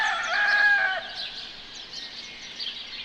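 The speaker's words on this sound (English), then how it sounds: "Enjoying the sound of birds and roosters in the morning." In the morning in Madeira, a rooster crows once near the start, a bright drawn-out call lasting about a second, followed by softer bird chirps in the background.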